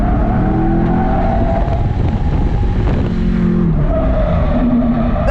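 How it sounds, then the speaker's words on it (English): A car drifts on a race track, its engine roaring loud and close while the tires squeal steadily as it is flicked and e-braked into a turn. "I'm going to flick the car a little and e-brake into this turn"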